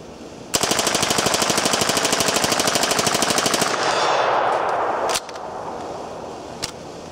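An MP5 submachine gun fires a single continuous full-auto burst of about three seconds with Fiocchi ammunition, a loud rapid string of shots that ends abruptly, followed by ringing echo and a click.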